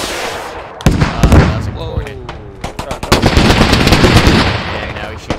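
A BMP-2 infantry fighting vehicle firing its cannon in the video game Squad, loud sharp bursts of shots cracking close by, with voices talking over the gunfire.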